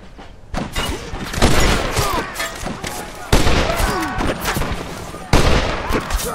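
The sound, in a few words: Springfield rifle gunfire in Red Dead Redemption video game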